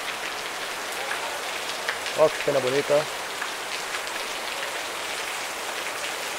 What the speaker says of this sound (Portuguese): Deixa a chuva cair.